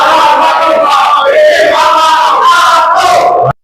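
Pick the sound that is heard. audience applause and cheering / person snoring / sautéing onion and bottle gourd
audience applause and cheering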